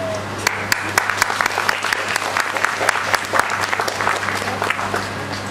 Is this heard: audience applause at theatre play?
yes